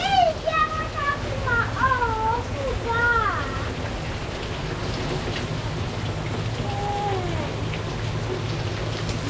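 Rain falling outdoors, a steady close hiss that runs throughout, with voices, including a higher child-like voice, talking over it at the start.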